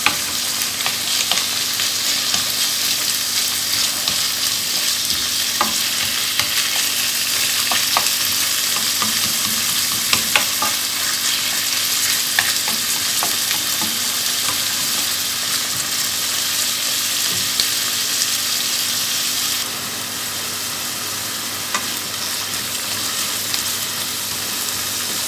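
Kofta with spices frying in a pan, a steady dense sizzle that carries on without a break, with occasional stirring clicks, close and alone.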